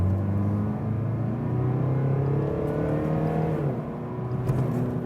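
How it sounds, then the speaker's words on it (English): A 2020 Mercedes V-Class van, rear-wheel drive, accelerating hard in sport mode from about 20 km/h, its engine note rising steadily through the gears with a shift partway through, heard from inside the cabin without talking. "Just let's go to the sports mode and let's accelerate just like from 20 on,"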